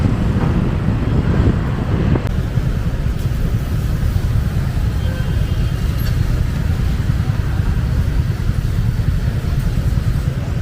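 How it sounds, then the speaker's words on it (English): Moped and scooter traffic on a busy Ho Chi Minh City street, recorded while riding, a steady loud rumble of engines mixed with heavy wind buffeting, no voices. "It's just moped chaos in Ho Chi Minh."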